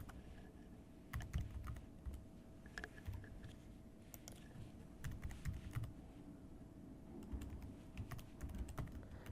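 Quiet typing on a computer keyboard, a run of light, irregular key clicks and taps tapping out a short entry, close and soft with faint room hiss, no voices.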